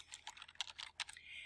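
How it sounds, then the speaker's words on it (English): Someone types a name on a computer keyboard, producing a quick, faint run of light key clicks with an uneven rhythm, heard up close in a quiet room. "you can start typing a name"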